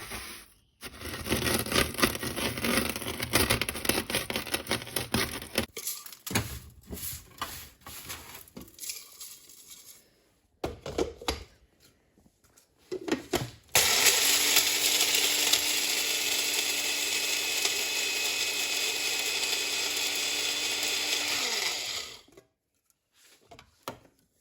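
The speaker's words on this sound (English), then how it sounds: "I'm putting them in the blender, and they are turning into a powder" A blender grinds dried banana peels into powder, a loud, rattling mechanical whir that runs in bursts, pauses, then settles into a steady sustained roar for several seconds before cutting off.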